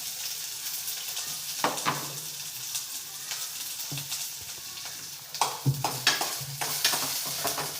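Onion frying in a pan for gobi samosa filling makes a steady close sizzle, with intermittent spoon scrapes and taps against the pan that grow busier toward the end.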